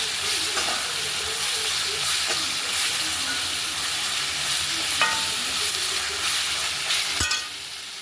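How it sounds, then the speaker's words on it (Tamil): Onions sizzle steadily in hot oil with ginger garlic paste for a quail gravy, stirred with occasional scrapes and clinks of the spoon against the pan. "நம்ம வெங்காயம் வதங்கும் போது நம்ம வந்து இஞ்சி பூண்டு விழுது போட்டுக்க போகிறோம். போட்டு நல்லா வதக்கிக்கணும்."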